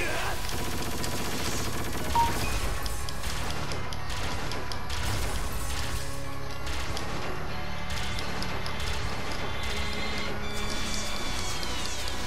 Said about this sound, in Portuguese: Toma tiro.